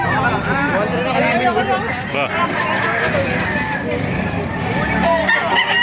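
Chickens and roosters at a crowded poultry market in Baliuag, Bulacan, crow and cluck in a dense, loud mix beneath a vendor's nearby talk and steady crowd babble.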